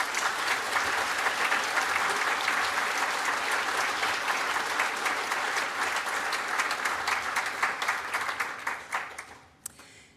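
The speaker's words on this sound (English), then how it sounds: "Please join me in thanking them with a well-deserved round of applause." A graduation ceremony audience at NTU's School of Social Sciences breaks into long, loud, sustained applause from a large hall crowd that thins into scattered claps and fades out at the end.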